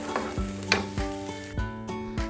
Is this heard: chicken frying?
yes